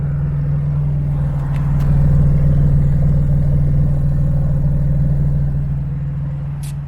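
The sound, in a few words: Infiniti G35 idling with new exhaust installed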